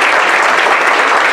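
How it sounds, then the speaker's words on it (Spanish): A church congregation bursts into dense, steady applause at a Spanish-language worship service, loud and sustained for a brief moment with no voices on top. "¿Cuántos le dan un aplauso fuerte al Señor,"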